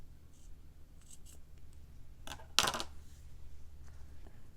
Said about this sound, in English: So maybe I'll just curve it around and then just snip it from there.